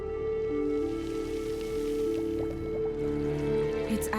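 A meteorite dropped into shallow water in the video game Monolith gives a soft liquid squish and a few drips over a steady low game ambience, with a brief splashy burst at the end.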